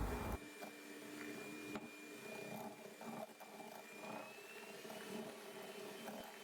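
An electric mixer whirs steadily while beating eggs and sugar for a sand cake, a continuous close buzzing drone with a faint whine and occasional knocks against the bowl.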